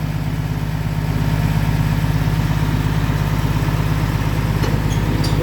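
A motorcycle engine idles steadily up close, a loud, even low throb with a regular firing pulse and no talk over it.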